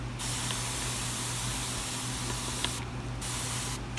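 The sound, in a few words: spray bottle spraying liquid fertilizer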